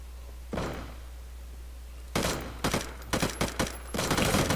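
A shotgun fires in a firefight in the PvP survival game Deadside, with several sharp, heavy blasts in quick succession over a low steady hum.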